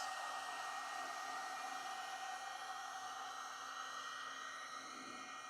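A heat gun blows a constant, faint hiss of hot air along vinyl wrap film on a car door, steady and unbroken throughout with no voices.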